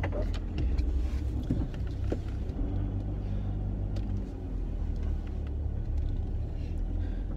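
Interior rumble of a car driving along a road, a steady low engine and road drone with some small knocks and rattles, fairly close and continuous.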